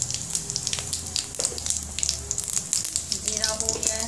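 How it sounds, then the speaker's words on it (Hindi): Cumin seeds sizzling in hot refined oil, a steady crackling fry with bright spattering pops throughout, close and fairly loud, with faint voices or background sounds underneath. "हमारा रिफाइंड ऑयल गर्म हो जाए तो फिर हम तो अब हम डालेंगे जीरा"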